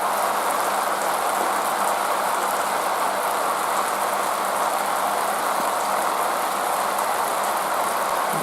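A rain effects machine sprays artificial rain, a steady, dense, loud hiss that stays even from start to finish and is close, with no voices.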